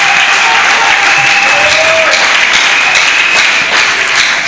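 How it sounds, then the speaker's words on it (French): A church congregation bursts into loud sustained applause to acclaim Jesus Christ, dense clapping from a large crowd with a voice faintly heard over it. "Est-ce qu'on peut acclamer Jésus-Christ?"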